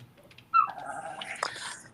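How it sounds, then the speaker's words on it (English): A house dog gives a sudden sharp yelp that runs into a rough, wavering growl and whine, close and fairly loud, lasting about a second and a half. "Can you hear that dog of mine?"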